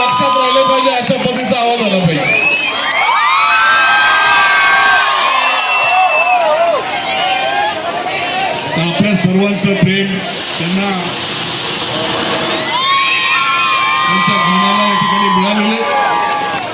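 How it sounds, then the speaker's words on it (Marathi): A large crowd, mostly women, cheers and whoops loudly and continuously at a live performance of a song, rising in waves of excitement over an announcer's voice and background music. "टाळ्यांचा आवाज येत नाही झाला पाहिजे आवाज लवकर लवकर"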